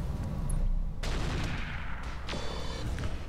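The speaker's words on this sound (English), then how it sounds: "Good thing we have good turrets here." Turrets blasting away during a mech battle in the BattleTech mod Roguetech: rapid gunfire over a rumbling din, punctuated by several sharp, loud cracks and booms in quick succession.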